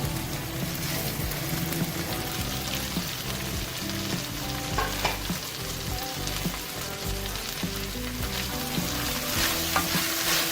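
Carrot and capsicum stir-fry for chicken chow mein, a dense, loud, continuous sizzle with constant stirring and spatula scrapes throughout.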